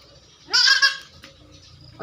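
A single goat on a farm, being treated for diarrhea, lets out one loud, close, wavering bleat lasting about half a second, then quiet background noise follows.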